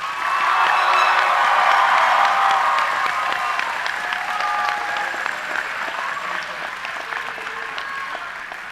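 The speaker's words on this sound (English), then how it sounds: "Please give them a round of applause." A round of applause with some cheers from the crowd at a high school graduation ceremony for students of the class of 2023, loud at first and gradually tapering off.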